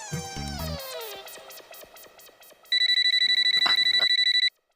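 An old landline telephone rings in a comedic TV scene, a steady, insistent electronic ring pulsing rapidly for a couple of seconds after a descending warbling tone, then stopping abruptly.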